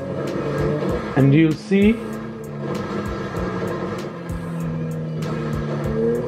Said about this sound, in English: get in the car, drive away until the marker reappears, and then drive back